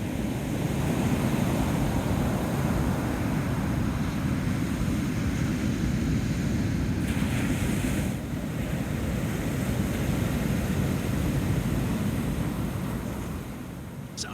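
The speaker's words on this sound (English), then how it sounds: "That is the sound of the ocean and waves along the barrier islands of Virginia's eastern shore" Ocean waves wash along the barrier islands of Virginia's Eastern Shore, a steady broad roar of surf mixed with wind noise, continuous and moderately loud with slight swells and a brief dip midway.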